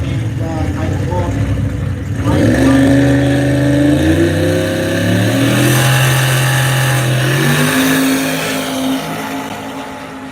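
Turbocharged drag car engine revving hard and accelerating down the strip at a drag racing shootout, a loud rising roar sustained for several seconds with pitch climbing and shifting, with faint voices underneath.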